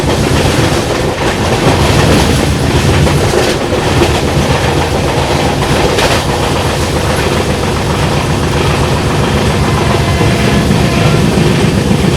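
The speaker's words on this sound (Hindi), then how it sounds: "अभी देखो सामने से आ रही है कंचनजंगा एक्सप्रेस।" The Kanchanjunga Express, hauled by an electric locomotive, passes close by with a loud, continuous rumble and rapid clickety-clack of wheels over rail joints. The sound stays dense and steady throughout, with no speech.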